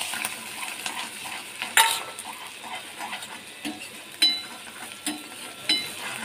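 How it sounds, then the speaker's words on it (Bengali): Fresh pond prawns fry in hot oil in a pan with a steady sizzle, and a utensil stirs them in short scraping bursts. A few sharp clinks of metal against the pan stand out. No one speaks. "চিংড়ি মাছটা আমার ভাজা হয়ে গেছে"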